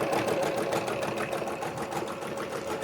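A home sewing machine stitches coiled rope into a fabric bowl, its motor whirring steadily with a fast, even needle rhythm throughout, close and unbroken, with no talking.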